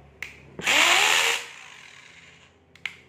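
A Hitachi hammer drill set to reverse whirs up in one loud burst lasting under a second, spinning down with a falling whine, bracketed by sharp clicks of the trigger or switch.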